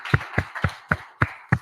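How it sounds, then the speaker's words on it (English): An audience claps to applaud the speakers at a live event. Six evenly spaced, sharp claps sound close and clear with no talk over them. "let's give our speakers a hand"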